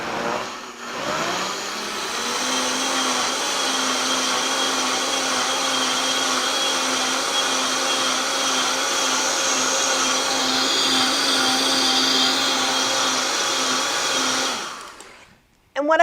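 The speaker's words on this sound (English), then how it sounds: "And I'm just going to blend it up." A blender whirs loudly and steadily for about fourteen seconds while blending dry ingredients for a salt-free, oil-free homemade vegetable bouillon, then cuts off abruptly at the end.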